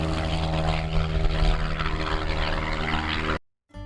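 A propeller aircraft takes off at full throttle from runway 06, its engine drone loud and steady with a strong tonal hum before cutting off abruptly near the end.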